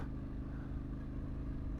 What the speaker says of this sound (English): hopefully you can still hear me over the exhaust